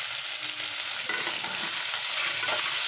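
Crab frying in hot oil seasoned with turmeric and salt, a dense, loud, unbroken hiss of sizzling with faint stirring beneath, close up and with no speech.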